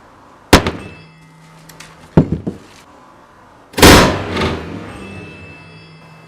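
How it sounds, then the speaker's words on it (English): An axe strikes the back of a rubber Google Pixel phone case in a smash test, three sharp loud impacts spaced over several seconds, the last heavier and more drawn out, with no talking. "How will the rubber hold up against the axe?"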